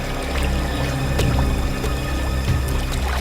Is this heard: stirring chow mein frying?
no